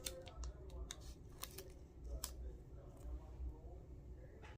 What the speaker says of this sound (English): I'm just basically gonna cut around my transfer tape just like so